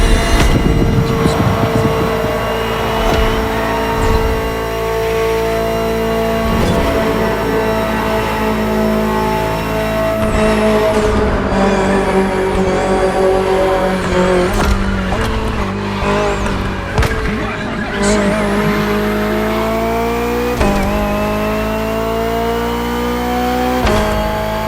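BMW M Hybrid V8 endurance race car, a 2023 Le Mans prototype, driving in The Crew Motorfest: a loud, continuous engine roar rising and falling through gear shifts and revs, with occasional tire squeal, close and unbroken across the whole stretch.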